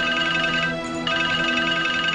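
A phone rings in a Hindi family drama, a steady, fairly loud melodic ringtone of sustained tones with a brief dip partway through and no talking over it.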